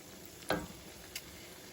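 Sufganiyot doughnuts fry quietly in oil with a soft, steady crackle, and two short clinks and splashes mark them being flipped.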